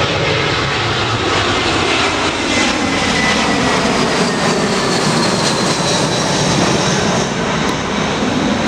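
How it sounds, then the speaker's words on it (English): An airplane engine drones steadily overhead, a loud continuous roar that fills the whole stretch without fading, heard outdoors beside a vegetable garden with no talking. "Excuse the plane. I know it's quite annoying"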